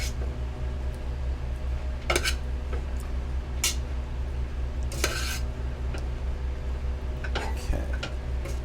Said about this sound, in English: We'll add some more garlic to the pasta, and just mix that around.